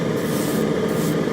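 Brief, steady, close hiss of an airbrush spraying Stynylrez primer, continuous and even with no talk over it.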